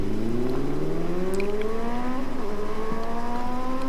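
A Honda CBR 1000 RRR motorcycle accelerates hard, its engine note climbing steadily in pitch with a brief dip at a gear change, loud and close with no talk.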